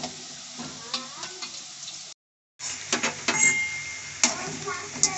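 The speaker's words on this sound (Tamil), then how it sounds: "நல்லா மொறு மொறுன்னு பொறிச்சு எடுத்துக்கிட போகிறோம்" Wheat flour seedai balls deep-frying in hot oil until crispy, a steady close sizzle with occasional stirring clinks of utensil against pan, broken by a brief silent gap.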